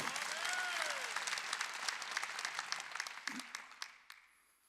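A church congregation at a Wednesday worship service applauds in a steady wash of clapping that gradually thins out and fades away, with a faint voice and a short low thump partway through.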